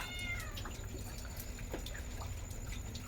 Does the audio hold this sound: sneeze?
no